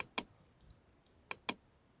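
Three crisp computer keyboard clicks from shortcut keys pressed during a Photoshop exercise, one single press then a quick pair, close and isolated against faint room hiss.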